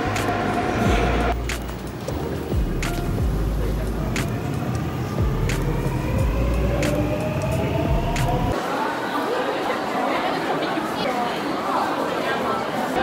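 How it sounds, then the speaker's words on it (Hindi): A Seoul metro station with a train running in: a loud, steady rumble with rising and falling tones, and a low drone that cuts out partway, under nearby voices and station bustle. "अभी मेट्रो स्टेशन पे खड़े हैं और मेट्रो का वेट कर रहे हैं।"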